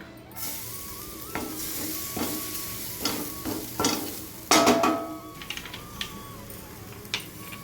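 Grated coconut roasts in a pan for sambar, with soft sizzling under repeated stirring and scraping and a few sharper clicks of the utensil against the pan.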